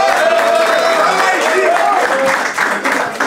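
Audience applause and clapping at a live French comedy show, a dense steady wash of hands filling the room for several seconds, with voices mixed in beneath.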